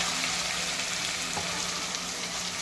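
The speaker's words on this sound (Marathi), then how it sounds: "चला आता मसाला छान परतून घेऊन येते सुकेपर्यंत" Masala of ginger-garlic paste, onion and coconut sautéing in oil for a fish curry, a steady dense sizzle close by with no talk.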